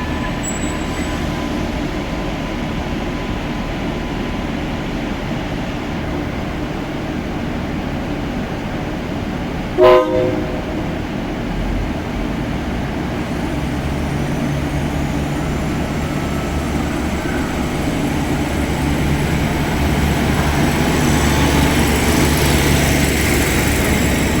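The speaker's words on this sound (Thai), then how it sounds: "ออกจากสถานีมักกะสันแล้วนะครับ" Train 383 departing Makkasan station, a steady low rumble and engine drone that builds slowly over time, with one sharp brief clank partway through; close and continuous, with no voices.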